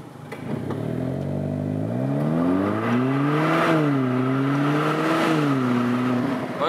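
Remapped Renault Clio 4 GT pulling away from a stop, its engine note climbing steadily and swelling and dipping through the revs, close and loud throughout with no talk.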